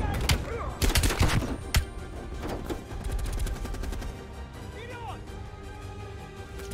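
Bursts of gunfire in Call of Duty: Black Ops Cold War on Xbox Series X: several sharp loud shots and rapid volleys early on, then quieter scattered firing under background game sounds and a brief voice.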